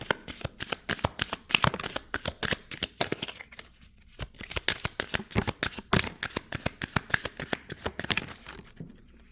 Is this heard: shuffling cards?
yes